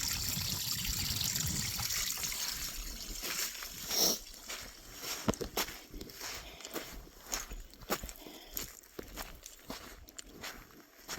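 A tiny waterfall trickles faintly and steadily in the background while footsteps crunch and scuff close by, with occasional louder knocks over the quiet flow.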